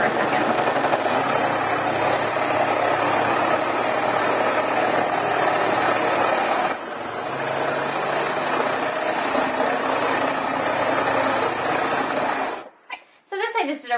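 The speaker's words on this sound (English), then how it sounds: "So I'm just going to quilt this really quickly. My machine is loud, so I'm going to stop talking for a second." A sewing machine stitches a quick stipple pattern across a fabric postcard, a loud, steady motor drone running continuously with a brief pause midway before cutting off near the end.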